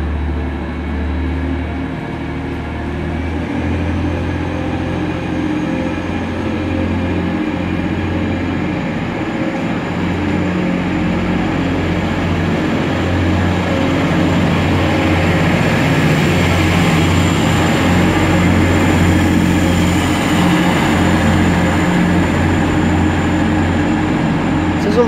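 A Northern train rumbles steadily as it pulls out of Manchester Victoria station, bound for Liverpool Lime Street, with a low engine drone and a rising mechanical hum, loud and close, slowly building.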